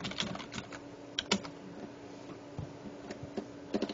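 Quick, light keystrokes rattle on a computer keyboard during an online Go game session, steady and fairly near over a faint background hum, with a few sharper key hits standing out.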